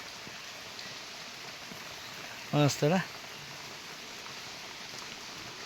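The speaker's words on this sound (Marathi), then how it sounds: "हे आलं पाऊस." Rain falls at night on a home courtyard, a soft, even hiss that continues for the whole stretch. A voice briefly speaks in the middle.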